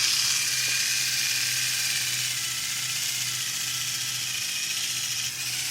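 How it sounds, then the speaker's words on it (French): A Braun facial epilator that doubles as a cleansing brush runs steadily up close, giving a continuous high, buzzing whir with no pauses and no talking. "je vais utiliser l'épilateur sourcils, enfin visage de chez Braun qui est aussi une brosse nettoyante"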